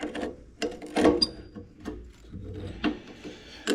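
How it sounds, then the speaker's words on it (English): Half-inch wrench working on an ignition switch gives a few faint metallic clicks and scrapes, several brief ratchety rubs close up in a quiet garage. "half-inch wrench."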